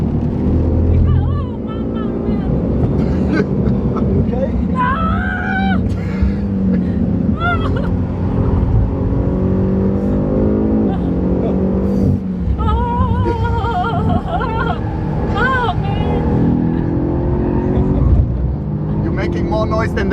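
A safety car lapping a race track at full throttle, its engine roaring steadily and loudly from inside the cabin throughout, with a passenger and driver talking over it.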